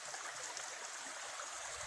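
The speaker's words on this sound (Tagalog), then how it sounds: "May sapa po siya." A creek runs through a coconut farm property in Sampaloc, Tanay, giving a steady, even rush of flowing water with no breaks.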